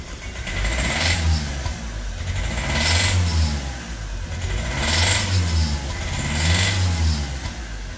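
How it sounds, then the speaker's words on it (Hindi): Hyundai i20 engine with a knocking fault, revved repeatedly in four rising and falling surges over a steady idle, loud and close, with no talk. "इंजन कर रहा है, टक टक की आवाज़ आ रही है"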